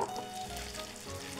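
Meat sizzles and crackles in foaming butter in a pan, a close, continuous frying hiss with small pops, heard on its own without talk.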